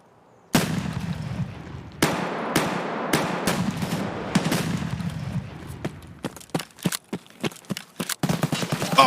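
Rifle gunfire in a video game, a loud sharp shot followed by a series of repeated cracks and echoing blasts, becoming a rapid cluster of shots toward the end, with no talking.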